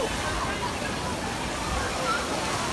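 A giant tipping bucket at Soaky Mountain Waterpark dumps water in a broad, steady rushing splash that fills the whole clip, close and loud, with a faint crowd murmur underneath.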